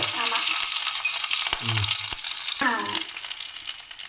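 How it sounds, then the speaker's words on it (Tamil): Mustard seeds and curry leaves splutter in hot oil, a dense close crackling sizzle with a few sharp pops, fading slightly toward the end. "கடுகு பொரியுது"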